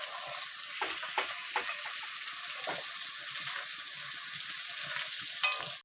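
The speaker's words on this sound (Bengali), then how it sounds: "এঁচোড় ভেজে নিচ্ছি," Boiled jackfruit frying in a pan with a steady, close sizzle, broken by several sharp clicks and scrapes of stirring; no talking.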